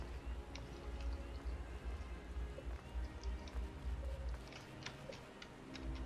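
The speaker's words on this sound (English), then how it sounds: "so it's rainy weather today." Steady rainfall in the Final Fantasy XIV game world, a dense, continuous patter with scattered drip-like ticks over a low ambient bed, holding at an even level throughout.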